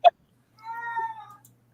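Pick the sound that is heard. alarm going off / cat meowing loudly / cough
cat meowing loudly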